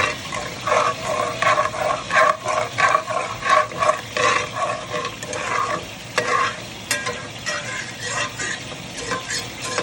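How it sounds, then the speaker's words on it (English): A spoon scrapes and stirs the bottom and sides of a pot of gumbo roux, with rhythmic, close scraping strokes over a steady sizzle of frying. "We want to get all goodness off the side of that pot. Scrape a little bit at a time."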